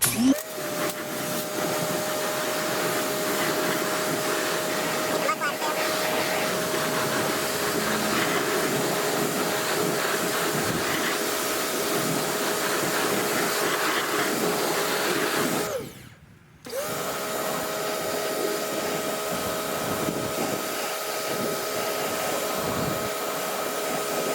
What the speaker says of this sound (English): I either have the turbo nozzle on the power washer or 25 degrees